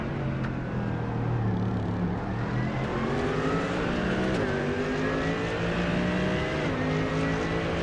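Naturally aspirated 6.3 litre Mercedes AMG GT3 V8 in the iRacing game at Suzuka, a loud continuous roar climbing through the revs, with sharp gear shifts and several cars howling together.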